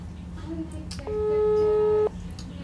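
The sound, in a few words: telephone dialing a call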